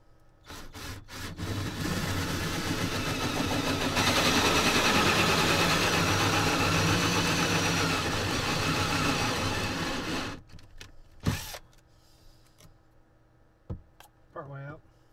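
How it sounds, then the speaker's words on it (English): Hole saw boring through a campervan wall to fit a mounting bracket: a loud sustained grinding whine for about eight seconds, then stopping, followed by a few isolated knocks and clatters. "Next is gonna be using that hole saw to punch that all the way through."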